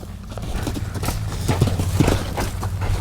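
Two-year-old filly trotting in a round pen, hooves beating a quick, steady rhythm on the ground at moderate distance, with a faint snort or whinny partway through.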